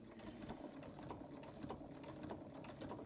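Overlocker sewing machine running slowly and steadily, giving a continuous, fairly quiet mechanical whirring and rapid needle clatter with no talking.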